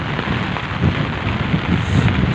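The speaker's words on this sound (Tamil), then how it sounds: "நல்லா இப்போ சண்டு நல்ல அடிச்சு மழை பெய்யுது" Heavy rain pours in Tirunelveli, a loud, dense hiss of drops beating on surfaces with slight swells in intensity, steady and close with no voices.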